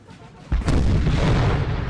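Booming artillery fire in the Napoleonic-era strategy game Napoleon: Total War, during a Talavera battle: a sudden heavy blast followed by rolling, sustained rumble of more cannon fire.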